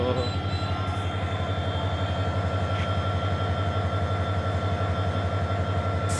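A steady, loud low rumble of rail machinery at Joydebpur railway station, Bangladesh, continuous and droning with faint clanks, no clear voices.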